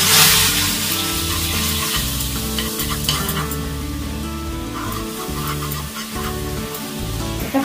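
Water poured into a hot pan of caramelizing sugar while making misti doi, sizzling loudly and steadily throughout, with a bright hiss at the start and continuous bubbling crackle.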